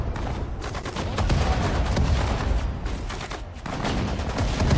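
Mortar fire in the wartime strategy game Sudden Strike 4, Battle of Bataan, heard as a dense, continuous barrage of gunfire and blasts at steady loudness with brief lulls, and no voices over it.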